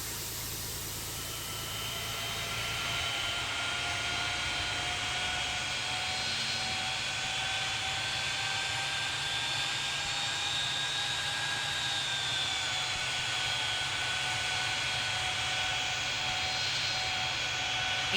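Steady jet engine whine of airliners taxiing at Copenhagen in the Tower! Simulator 3 game, a continuous droning hum with faint shifting tones holding at an even, moderate level throughout.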